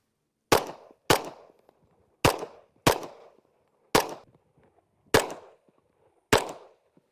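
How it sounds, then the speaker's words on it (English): Glock pistol fired at multiple targets spaced about 5 to 15 yards away at a shooting range, seven loud sharp shots in an uneven rhythm, each with a short echoing tail. "I want to practice shooting multiple targets now."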